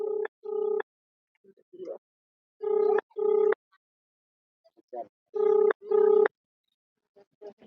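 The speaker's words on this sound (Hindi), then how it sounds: "हम लोग कॉल लगा रहे हैं और बात करेंगे।" A telephone ringback tone on an outgoing phone call, heard as paired electronic rings repeating in a steady cadence with short silent gaps and faint murmurs between them.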